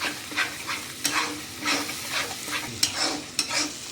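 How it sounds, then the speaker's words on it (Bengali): A spatula stirs spice masala mixed with yogurt in a pan for potato curry, a run of rhythmic scraping strokes over a low sizzle, close and moderately loud with no talking. "টক দইটা দিয়ে ভালো করে আমি এগুলোকে একসাথে মিক্স করে দেবো।"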